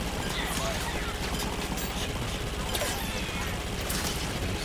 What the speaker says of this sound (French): On va canarder à la tourelle.